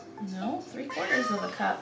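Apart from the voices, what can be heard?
cat meowing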